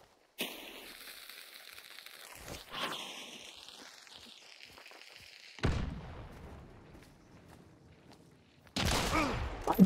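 Gunfire in a hunting video game: a few sharp, loud reports spaced several seconds apart, each with a brief trailing echo, separated by quieter stretches with faint background tones.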